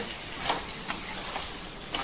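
Poppy seeds fry in hot oil with onion and chilli powder for a Maharashtrian poppy seed curry, giving a steady dense sizzle with a few soft stirring scrapes and no talking.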